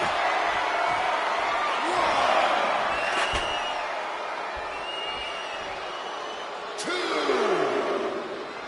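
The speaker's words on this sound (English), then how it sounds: "The crowd is going absolutely crazy right now" A wrestling video game arena crowd roars continuously at a steady, loud level, with a few swells, whistles and thuds from the ring breaking through the sustained cheering.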